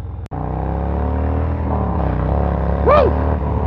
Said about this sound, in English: You gotta rev it a few times before you pull off.